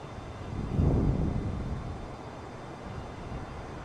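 Airbus A320neo jet airliner climbing after takeoff in Microsoft Flight Simulator, a low steady engine roar that swells briefly near the start and then settles into a constant rumble, with no one speaking.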